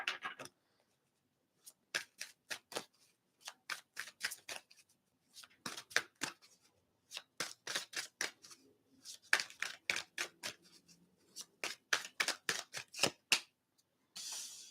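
Tarot cards are shuffled close up in quick bursts of crisp, snapping riffles separated by short pauses, clear and fairly loud, with no talking.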